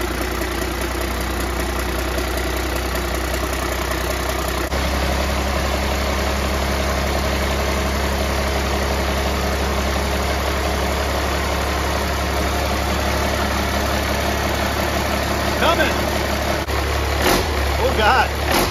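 A 12 valve Cummins diesel engine runs steadily after a floor start, with a loud, constant low rumble throughout and brief clatter near the end.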